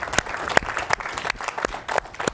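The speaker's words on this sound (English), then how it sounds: "clap it up" Applause from an audience at an immigration town hall, a burst of hand claps with irregular sharp strikes, fairly close and loud, continuing without voices for a couple of seconds.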